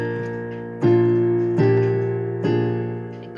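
Piano playing part of a song, three firm sustained chords struck about a second apart over a held bass, close and clear, no talking.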